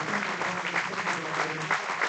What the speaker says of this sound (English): how about a big round of applause for those who put on the front